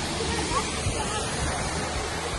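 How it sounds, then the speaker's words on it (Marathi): Janet's Foss waterfall at Malham in the Yorkshire Dales roars as a steady, broad rush of falling water, continuous and fairly loud across the whole moment. "हा तो धबधबा आहे जेनेट्स फॉल्स"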